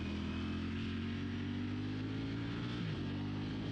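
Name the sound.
motorcycle engine as rider brakes and lets out throttle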